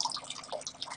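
Water trickles and drips softly as it drains out of a tipped ND YAG tattoo-removal laser machine, faint and close with irregular splashy droplets.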